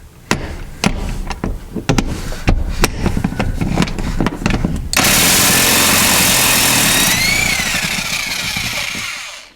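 Pneumatic impact gun working on the heavy seat bolts of a 2009-2018 RAM truck: a run of short sharp bursts, then a loud sustained rattling hammer for several seconds that gradually eases off, close up with no talk.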